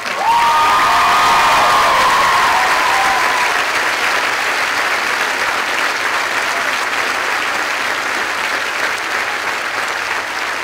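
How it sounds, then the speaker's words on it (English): Audience at the Aurora University 2011 undergraduate commencement applauds the graduates' mothers on Mother's Day: loud, dense, sustained applause filling the whole stretch, with a brief higher tone early on. "could you join me in a round of applause for your mom?"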